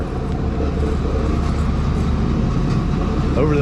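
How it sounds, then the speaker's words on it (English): Heavy machinery scrapes up gravel and rocks in a city square in Lithuania, a loud, continuous grinding rumble that fills the scene, with faint voices mixed in. "Over the sound of machinery scraping up gravel and rocks"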